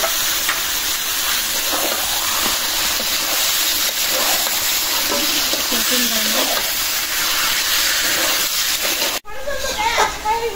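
Chicken stir-fried in oil with ginger and garlic, a steady loud sizzle with scraping stirs running throughout, briefly cut off near the end before resuming.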